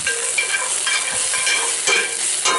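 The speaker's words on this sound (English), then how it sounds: "I'm using the back of the spoon, so believe me, it's not hurting that Field Company" A metal spoon stirs and scrapes food sizzling in a Field Company cast iron pan, steady frying hiss with repeated soft scraping strokes, close and continuous with no talking.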